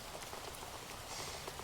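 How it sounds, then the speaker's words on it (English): A rain recording plays as a dense, steady patter of raindrops on a surface, soft and continuous without talk. "It's not raining, but we are listening to rain"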